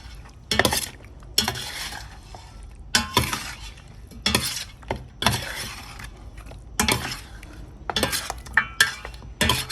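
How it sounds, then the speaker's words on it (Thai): Pork bone curry with pickled vegetables for a northern Thai dish, stirred in a pot with a spoon: repeated scraping strokes in an irregular rhythm, close and fairly loud, with no talk. "ทิ้งไว้คนให้เข้ากันนะคะ"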